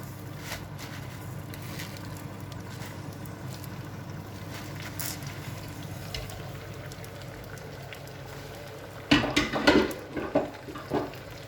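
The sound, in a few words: fresh spinach added to a pan with olive oil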